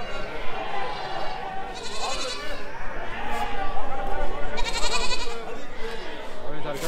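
Lambs bleat repeatedly at a small-livestock market in Havran, Balıkesir, their cries rising over a dense crowd murmur and nearby chatter.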